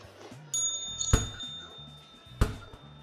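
A bell in the video game Rec Room dings twice, a second or so apart, each a bright metallic strike with a ringing tail, fairly faint over a soft background hum.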